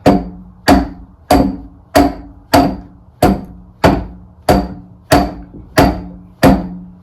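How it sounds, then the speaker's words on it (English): Eleven evenly spaced, solid thuds from a rawhide hammer striking the rear axle of a 1960 Bolens Ride-a-matic garden tractor, each blow close and loud with a short ringing decay. "the hide hammer won't damage the paintwork on the end here, and means that we can hit it through easier"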